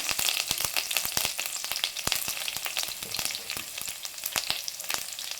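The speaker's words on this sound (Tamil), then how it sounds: "ஒரு சின்ன வெங்காயம் நறுக்கி போட்டு போட்டு வெடிக்க விடுங்க" Chopped shallot sizzling and crackling in hot oil, a steady bright hiss dotted with sharp pops throughout, close up with no voices.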